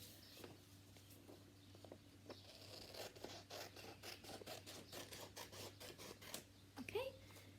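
Scissors snipping through a sheet of origami paper, a quick run of close, crisp cuts in a regular rhythm, quiet and alone, with paper rustle at the end.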